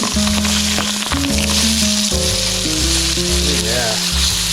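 Salmon fillets searing and sizzling in a hot oiled pan just after being flipped, a loud, steady crackling fry running throughout with overlapping tonal background sounds.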